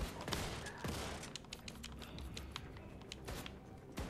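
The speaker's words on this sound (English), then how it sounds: "Oh, somebody's shooting at me." Bursts of enemy gunfire in the shooter game Wolfenstein II, sharp repeated shots with a few heavier thuds scattered across a busy, dense combat mix, with no talk over it.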